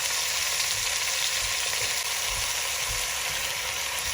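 Meat browning in a pan for chili, a dense continuous sizzle up close with faint scraping stir sounds underneath and no talk.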